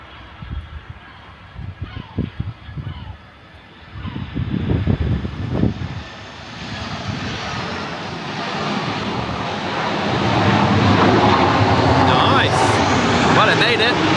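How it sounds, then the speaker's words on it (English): An EasyJet airliner landing at Gibraltar grows from a distant rumble into a loud, sustained engine roar over the second half, following some intermittent nearby noise at the start. "But let's catch this plane landing and see what happens."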